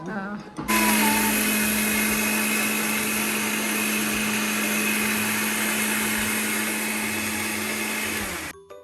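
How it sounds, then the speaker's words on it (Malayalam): A blender whips egg and sunflower oil into mayonnaise, a loud, steady motor whine that starts abruptly, runs continuously for several seconds, and cuts off at the end. "ആ മയോണൈസ് അടിക്കുന്നു"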